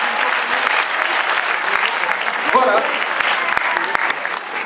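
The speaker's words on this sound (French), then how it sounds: "On peut les applaudir, s'il vous plaît." Audience applause fills a hip hop dance contest hall, dense and steady clapping from a large crowd throughout, with a brief spoken word from a host heard faintly over it.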